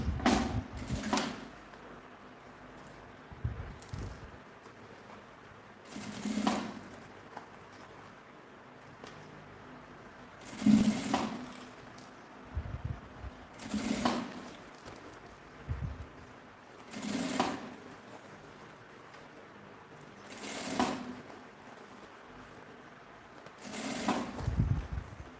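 A sewing machine runs in short repeated bursts, about eight, stitching the bias edge of a small fabric vanity case, close and moderately loud with quiet pauses between runs.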